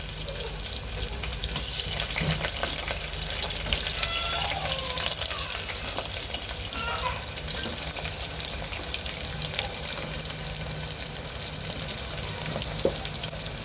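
Three medium-sized onions sauté in a pan over a tempering for carrot rice, a steady, fairly loud sizzle that runs throughout with occasional stirring scrapes and no voices.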